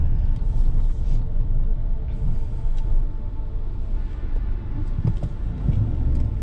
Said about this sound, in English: Oh god, that V8, I cannot get enough of that V8